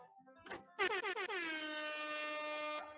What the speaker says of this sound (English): I hope you'll kindly excuse me while I dust off the Colonel's air horn